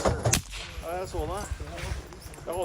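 A single sharp shot from a Welrod suppressed single-shot pistol lands near the start, a short loud thump, followed by excited talking.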